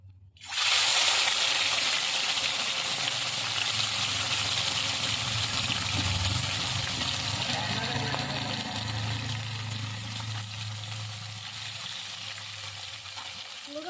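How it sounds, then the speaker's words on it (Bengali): Morola fish, washed and rubbed with salt and turmeric, frying in hot mustard oil: a loud, steady sizzle that starts abruptly and holds for the whole stretch, with a low hum underneath. "এবার আমি মাছগুলোকে ভেজে নিচ্ছি"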